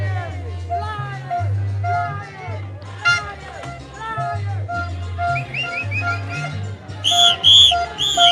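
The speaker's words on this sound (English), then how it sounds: "Stop with the whistle." At a New Jersey campaign event, shrill whistle blasts break out near the end over loud, continuous talking and shouting from people close by.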